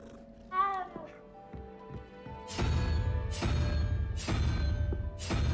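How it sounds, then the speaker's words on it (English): A house cat gives one short, close meow near the start, followed by quieter knocks and then louder rhythmic sound bursts. "Oh god, the cat's in the way."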